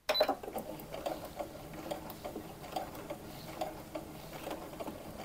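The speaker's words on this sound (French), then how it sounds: "je viens de terminer de coudre mes 2 bustes" A sewing machine stitches a fabric bodice for a dress, a quiet rapid ticking whir that runs steadily with slight pulses in speed.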